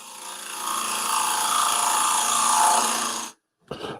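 A gouge cuts wood on a lathe in a steady, continuous rasping shave that holds loud for over three seconds, breaks off into brief silence, then resumes for a moment.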